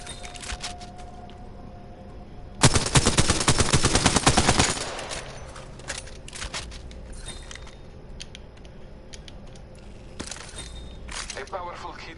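Rapid burst of Apex Legends gunfire, loud and dense for about two seconds, then fading into quieter game sounds with scattered clicks and mechanical noises.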